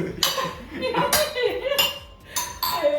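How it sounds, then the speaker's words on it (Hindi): A small child pulls pots and utensils out of a kitchen drawer, making irregular metallic clanks and clinks close by, with some voices in the background. "तो सबसे पहले वो आकर के ड्रॉअर खोल के और बर्तन ही निकालता है"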